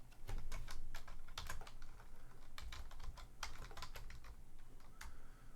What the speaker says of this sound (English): I cannot type in PKG on my keyboard for some reason